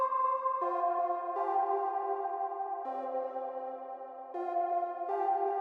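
Two layered synth melodies, one from Nexus and one from Serum, play the same notes as sustained harmonic tones stepping through a loud, steady melodic line, with no talking, in a song remake.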